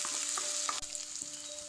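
Onion sizzling and frying in hot mustard oil with cumin seeds, a steady crackling hiss with occasional stirring clinks of a utensil against the pan, no voices.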